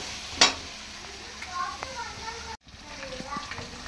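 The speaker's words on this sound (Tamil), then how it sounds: "கத்திரிக்காய் போட்டு இதுவுமே கொஞ்சம் வதங்க விடுவோம்." Eggplant and okra sauté in oil for a kara kulambu, giving a low steady sizzle with a sharp utensil knock near the start and light stirring clinks. A voice murmurs over parts of it.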